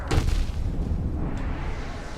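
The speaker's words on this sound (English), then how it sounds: "What are you doing causing explosions and stuff?" A deep, rumbling explosion goes off in the video game Hollow Knight, with a brief booming onset that settles into a sustained low roar.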